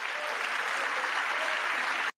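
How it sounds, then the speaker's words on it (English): Dense, sustained crowd clapping during a political speech, a loud continuous wash of many hands that cuts off abruptly at the end. "There was obviously a lot of clapping throughout the entire speech."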